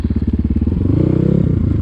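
A motorcycle engine roars close by, a loud pulsing throb with rapid even firing beats that rises briefly as it revs, with no talking over it.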